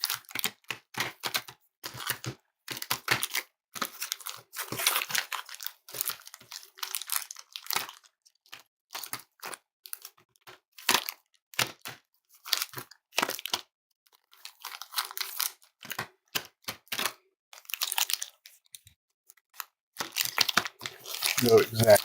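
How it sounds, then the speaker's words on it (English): A stack of trading cards is shuffled by hand during a pack break, giving bursts of crisp riffling and flicking in uneven clusters separated by brief pauses, close to the microphone. "All right, so now let's shuffle these up."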